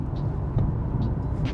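Steady low road rumble from a 2019 BMW X2 M35i driving on the DVP, with a single sharper thump near the middle as a tire hits a pothole, heard from inside the cabin.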